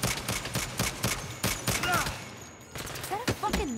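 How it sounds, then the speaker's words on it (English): A minigun in the Saints Row video game unloads in rapid, dense bursts, pauses briefly, then roars again, loud and close, with a voice briefly exclaiming over the fire. "Yes, sir, it's a fucking minigun."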